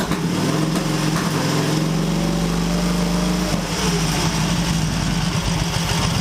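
A close, loud Excelsior Henderson Super X motorcycle engine runs unevenly during tuning, a steady buzzing drone whose pitch sags and wavers partway through before settling again.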